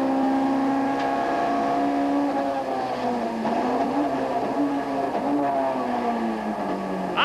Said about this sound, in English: This is the ProDrive Works car that we're riding with.